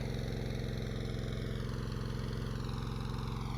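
Boat engine throttling up, a steady low-pitched pulsing drone with even rhythmic beats, close and continuous, with no talking.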